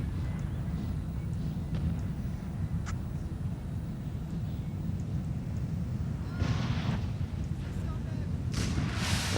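Grapeshot artillery fire in a Napoleonic battle strategy game, a dense low rumble of cannon booms rolling continuously with a few sharper bursts, a voice talking over it.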